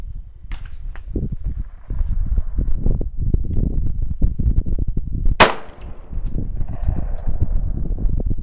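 A single sharp rifle shot cracks out during live-fire practice at a metal pipe 100 yards away, sounding loud and near. Wind rumbles and handling noise fill the background before and after the shot.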